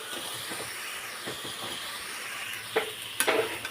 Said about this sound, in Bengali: এখন এর মধ্যে আমি ফুলকপিগুলো দিয়ে দেবো